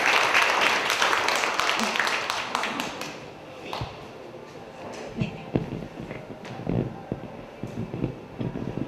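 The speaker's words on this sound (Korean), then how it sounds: "박수로 맞아주시죠." Audience applause greets a Korean Medicine doctor and author taking the stage at a book concert, loud and dense for about three seconds before thinning into scattered claps, taps and shuffling.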